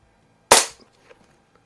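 A single sharp shot from a Walther LGR .177 air rifle at a range, a loud close crack that decays quickly, followed by faint small clicks and rustles.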